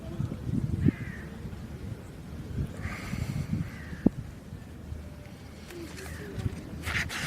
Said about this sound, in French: On entend les corbeaux.